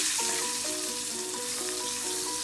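Lamb sears in a hot pan on the stove, a steady, dense sizzle running throughout with faint scraping and a few light knocks rising above it, close and fairly loud with no voices.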